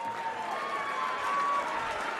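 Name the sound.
crowd applause at darts championship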